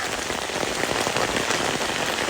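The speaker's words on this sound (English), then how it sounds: "I'm grateful for the rain." Steady rain pours down and patters on surfaces, loud and close. The hiss is dense and even and continues with no break and no voices.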